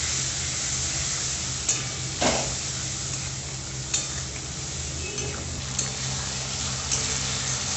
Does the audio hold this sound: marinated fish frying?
yes